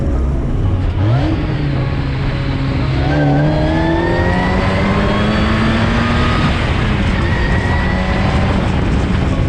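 A supercharged Mazda Miata NA track build drives in fourth gear, its engine droning loud and close, with pitch climbing steadily through the run as the car pulls.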